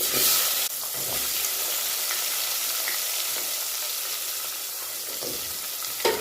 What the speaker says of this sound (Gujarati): ડુંગળીને આપણે બહુ તેલની અંદર એકદમ સરસ આ રીતના એકાદ મિનિટ માટે સાતળવા દેવાની છે